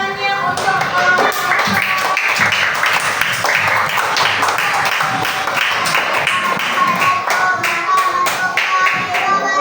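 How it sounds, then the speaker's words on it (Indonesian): A primary-school class claps for a group of classmates, a close, lively burst of many small hands with uneven taps and a few voices mixed in. "tepuk tangannya untuk kelompok"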